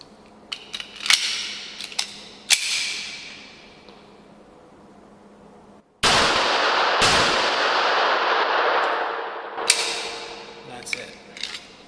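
A Rock Island Armory XT 22 Magnum rifle, fed bad ammunition, fires loud, close cracks with ringing tails, interspersed with sharp metallic clicks and clacks of the action being worked.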